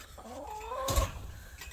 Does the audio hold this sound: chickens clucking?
yes